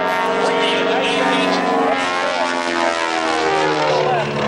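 A Beech 18 twin-engine propeller airplane drones loudly past an air show crowd line, its steady engine tone shifting in pitch as it passes, mixed with a loudspeaker commentary voice.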